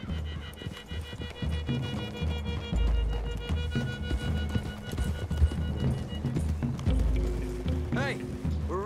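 Horse hooves clip-clop and run at a steady rhythm through a wooded clearing in the video game Red Dead Redemption 2, under a low rumbling score, with a snort or whinny near the end.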